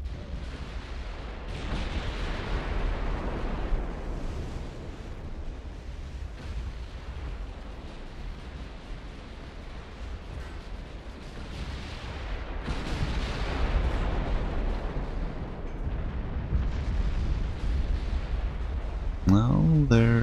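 Heavy naval gunfire from battleship turrets in the naval warfare game Ultimate Admiral: Dreadnoughts, a dense sustained rumble of booming salvos that swells toward the end, ending with a sharp high tonal effect.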